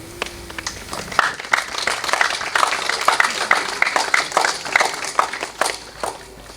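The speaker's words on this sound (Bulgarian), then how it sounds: "Да поздравим с аплодисменти гостите на нашето тържество." Audience clapping greets guests at a school patron-saint celebration at a gymnasium, irregular hand claps building into sustained applause with some crowd shuffling mixed in.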